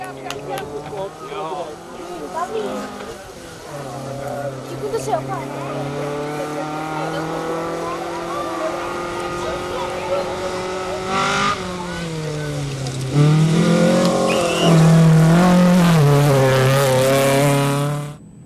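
A Toyota rally car at the Algoa Rally pulls away again after a short stop, its engine revving hard and climbing in pitch through repeated loud, close acceleration runs.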